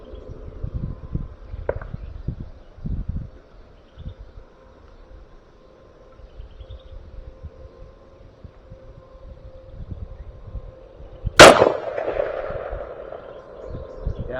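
A single loud, close rifle shot cracks out while zeroing a Pulsar Thermion thermal scope, following a long stretch of quiet wind and faint rustling, with a brief decaying echo afterward.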